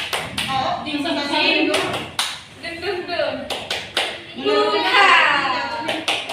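Rhythmic hand clapping from a classroom group doing a 'tepuk semangat' ice-breaker chant, sharp claps in patterned bursts mixed with children's voices chanting and talking throughout.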